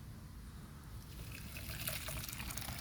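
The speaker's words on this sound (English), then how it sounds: "Got a carafe full of boiling water," Freshly boiled water pours from a carafe in a steady, close trickle that builds slightly louder as the stream continues, with no talking.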